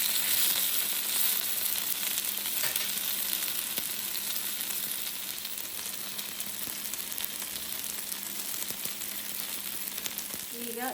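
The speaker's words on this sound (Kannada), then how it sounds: "ಈಗ 360 ಸೈಡನ್ನು ಫ್ರೈ ಮಾಡ್ಕೊಳ್ಳಿ, ಫುಲ್ ಎಲ್ಲ ಸೈಡೂ." Marinated fish frying in a pan, a continuous bright sizzle of hot oil running steadily throughout, close and fairly loud, with a few faint clicks of turning or stirring.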